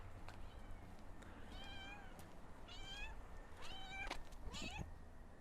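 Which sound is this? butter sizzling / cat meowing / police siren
cat meowing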